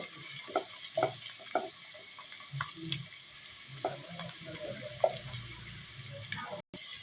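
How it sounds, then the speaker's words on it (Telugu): Onions frying and being stirred in a pan for chicken biryani, a faint sizzle under scattered clinks and scrapes of a spoon against the pan. "బ్రౌనిష్ కలర్ వచ్చేంత వరకు ఫ్రై చేసుకుందామండి."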